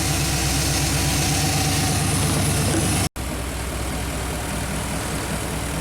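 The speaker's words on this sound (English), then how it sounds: "So I got the truck idling at 600 RPM" A classic Chevy truck engine idles at 600 RPM with a steady low rumble throughout, idle air control disconnected, loud and close, broken by a split-second dropout midway.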